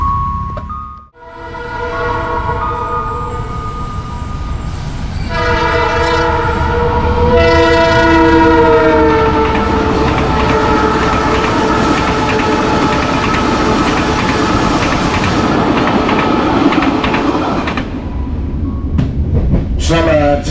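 An Argo Parahyangan train runs through Cibungur station with a loud, sustained horn blast of several tones over the rolling rumble of cars, the roar continuing steadily to the end.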